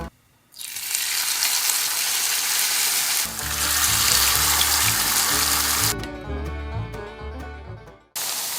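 Burdock root pieces fry in hot oil with a loud, steady hiss and crackle that surges as more are added, then thins toward the end before briefly swelling again.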